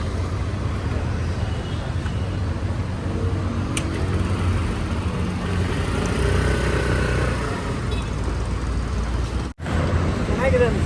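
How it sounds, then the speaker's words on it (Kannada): A TVS Jupiter 125 scooter on a test drive, its steady engine drone and road noise running loud and close throughout, with wind rumble and a brief dip near the end. "ಸೊ ಮತ್ತೆ ಇದೇ ನೋಡೋಣ ಟೆಸ್ಟ್ ಡ್ರೈವು. ಓಕೆ, ಓಡಿಸಿ, ನೀನೇ ಓಡಿಸಿ."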